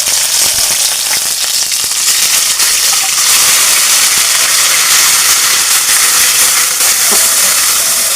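Onion, ginger and garlic paste with dried chillies and bay leaf frying in hot oil for a soybean dish, a steady loud hiss and crackle that runs unbroken from start to finish with no talk over it.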